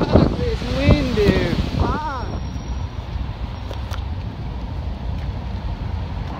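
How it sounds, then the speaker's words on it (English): Wind buffets the microphone in a low rumbling roar, with a brief voice at the start and water sloshing nearby. "Fuck this wind, dude."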